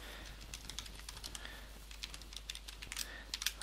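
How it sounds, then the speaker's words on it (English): Quiet, rapid typing on a computer keyboard, a dense patter of soft key clicks in uneven bursts, close by and alone. "Typos, this keyboard is terrible."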